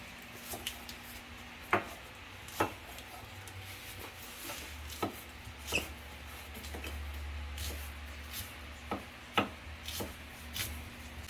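Green onions chopped with a knife on a cutting board in a tiny kitchen: about a dozen sharp, irregular taps spread through the clip, moderately close over a low background hum.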